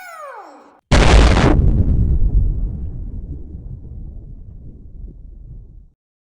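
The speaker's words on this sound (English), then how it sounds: "Now blow everything up!" A sudden loud explosion bursts after a brief falling whistle, then rumbles and decays over several seconds into silence.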